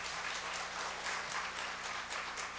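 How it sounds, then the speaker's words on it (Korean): Welcoming applause in a church sanctuary as a guest professor comes forward at a mothers' prayer meeting, a brief, even burst of dense clapping with no talk. "우리 강사님 나오실 때 큰 환영의 박수로"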